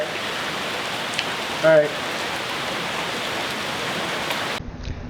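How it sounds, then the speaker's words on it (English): Steady rain falls outdoors on a work area during a woodworking build, a dense, even hiss that holds for most of the clip; a voice briefly says a word partway through, and the rain cuts away near the end. "while I said it's not raining too hard, it wasn't actually coming into that area too bad"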